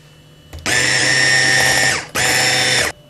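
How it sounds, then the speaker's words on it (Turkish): A loud electric mixer whipping chocolate pudding in a glass bowl whirs steadily, runs for about a second and a half, stops briefly, then starts again with a high-pitched motor whine. "Şimdi çırpıcıyla güzelce çırpalım."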